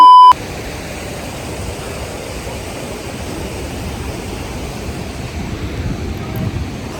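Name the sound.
Jogini waterfall rushing water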